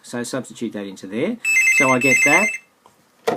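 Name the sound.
telephone ringing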